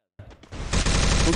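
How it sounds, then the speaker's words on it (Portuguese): Gunfire in a battle royale video game, sudden bursts of rapid automatic shots that build into dense, loud, close firing, with players talking over it. "Um tiro, Bak. Um tiro ele, Bak. Tomei tiro lá da casa"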